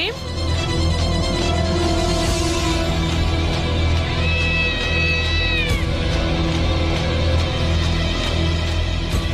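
A cat meows in a Tamil TV serial, one long drawn-out cry rising and falling over a thick bed of steady background sound.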